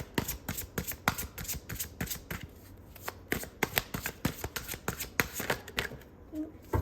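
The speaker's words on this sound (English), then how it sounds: "So I'm going to pull some guidance card." Guidance cards are shuffled in a rapid run of crisp riffling bursts and soft slaps, close and fairly quiet, with a few short pauses between shuffles.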